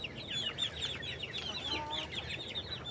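A native hen clucks in short, repeated calls near a nesting spot, with soft farmyard background noise and no talk.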